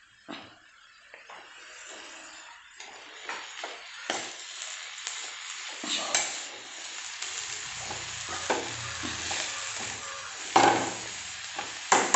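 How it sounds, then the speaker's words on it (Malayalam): Chopped spinach greens tossed onto onions in a hot pan for a mixed greens thoran, stirred with scattered scraping knocks over a soft sizzle that grows slightly busier as it goes, no voices. "എന്നിട്ട് ഇളക്കി യോജിപ്പിക്കണം."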